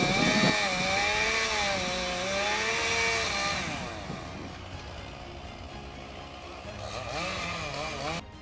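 A big chainsaw cutting a tree, its engine rising and falling in pitch over the first few seconds, then fading to a lower idle before revving up again near the end.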